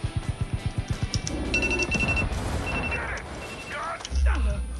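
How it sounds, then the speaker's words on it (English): A timer alarm goes off in a fast run of about a dozen evenly spaced, loud electronic pulses lasting just over a second, followed by a mix of clatter and game sounds. "my timer's going off"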